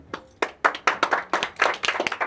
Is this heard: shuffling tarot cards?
no